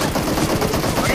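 Rapid automatic gunfire rattles in the video game PUBG Mobile Lite, a fast, steady stream of loud, close shots packed tightly together for about a second.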